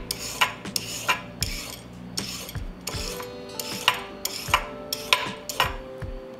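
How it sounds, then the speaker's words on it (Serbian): A knife cuts a peeled carrot into pieces on a board, trimming the ends first, with a steady run of about a dozen close, even chops and faint scraping between them. "Odsečit ću krajeve oljuštene šargarepi i iseći ovako na komade."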